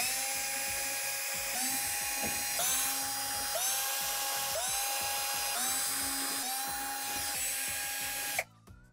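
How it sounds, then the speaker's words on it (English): A power driver backs Torx screws out of the back panel of a Whirlpool Swash dishwasher: about seven close, high whining bursts in a steady rhythm, each rising as the motor spins up, ending in a brief clatter. "we're going to go ahead and remove all the Torx screws around the perimeter of the back panel"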